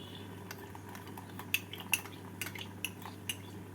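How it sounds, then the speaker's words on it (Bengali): A spoon stirs salt and cashew paste through a prawn curry in a metal pan, with a quiet bubbling bed under sharp, scattered clinks and scrapes of utensil on metal. "নুন আর কাজু বাদাম বাটা দিয়ে নাড়াচাড়া করে নেব"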